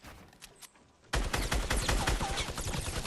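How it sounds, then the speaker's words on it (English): A minigun in the Fortnite video game opens up after a short quiet stretch, then fires a loud continuous stream of rapid shots that lasts to the end. "Okay, so this guy has a minigun."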